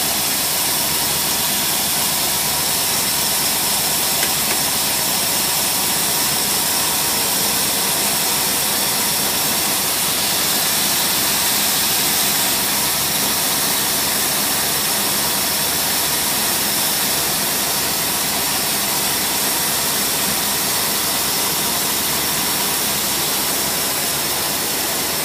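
Engine on a Holley race carburetor running rich with the choke on, a loud, constant hissing roar that holds steady for the whole stretch with no speech.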